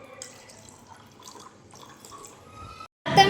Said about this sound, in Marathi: आणि आता यामध्ये थोडंसं पाणी टाकू।